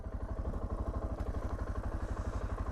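A Suzuki DR650 motorcycle engine rumbles steadily with a low, even pulsing beat while riding in the desert, heard close and continuous throughout.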